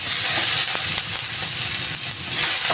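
Chicken adobo with string beans sizzles loudly in a pan, a steady close hiss of frying broken by stirring scrapes, with no voices.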